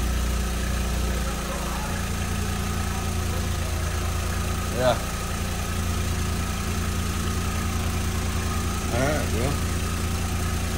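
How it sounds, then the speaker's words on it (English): A 2004 VW Beetle 2.0 L engine idles steadily with a low, even drone throughout, after a timing belt and water pump job, while someone speaks briefly over it. "it's idling good"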